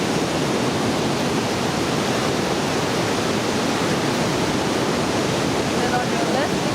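Roaring rush of the Pailón del Diablo waterfall in Ecuador, a dense, steady broadband wash heard up close without letup, drowning out everything else.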